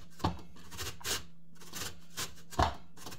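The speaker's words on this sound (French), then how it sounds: "Je commence par râper mes pommes de terre. On utilise le gros calibre." Potatoes grated on the coarse side of a grater for rösti, quiet rasping strokes in an uneven rhythm, a handful of scraping passes close up with no talking.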